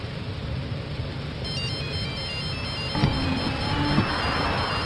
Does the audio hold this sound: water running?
no